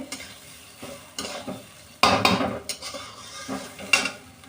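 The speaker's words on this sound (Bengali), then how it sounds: "পরিমাণ মতন লবণ দিয়ে একটু ভালো করে মিক্স করে নেবো লবণটা নাড়াচাড়া করে" A utensil scraping and knocking against a pan while salt is stirred into cooking food, irregular clinks and scrapes with a louder burst midway, faint sizzling underneath, no talking.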